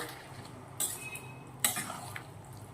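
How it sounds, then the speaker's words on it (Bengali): Spices such as turmeric, chilli and cumin powder fry with a little hot water in a pan, a soft low sizzle broken by two sharp metallic scrapes of a spoon stirring against the pan. "সবগুলো মশলা সুন্দর মতো ভেজে নেব"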